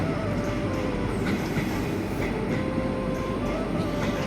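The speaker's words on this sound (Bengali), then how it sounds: "সৈয়দপুর ছেড়ে যায় রাজশাহীর উদ্দেশ্যে অপর একটি ট্রেন" A train departing Saidpur station for Rajshahi rumbles steadily along the rails, a loud, continuous roar of wheels and carriages close by, with no voices.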